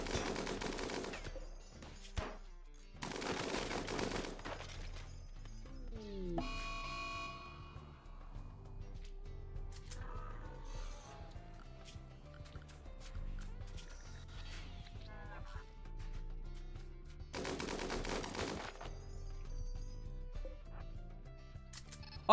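A machine gun firing in the colony-building game Rimworld, with sharp bursts of rapid shots between quieter stretches, and a person speaking over parts of it.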